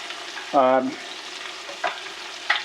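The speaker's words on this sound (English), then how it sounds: "we'll be sauteing up some of the onions" Onions sautéing in a pan for caramelizing alongside steaks, giving a steady close sizzle with a brief squeaky tonal scrape early on and a couple of soft clinks later.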